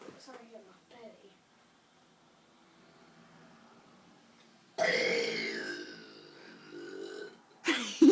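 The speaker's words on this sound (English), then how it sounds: "My burps are still big, even though I haven't done it for ages." A child lets out a long, loud, rough burp close to the microphone, followed by a shorter loud burst after a few quiet seconds. Faint child chatter and room noise come first.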